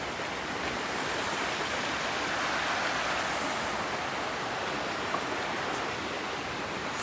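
A river flowing below at night, heard as a steady, broadband rushing wash of water that holds even and continuous throughout with no voices.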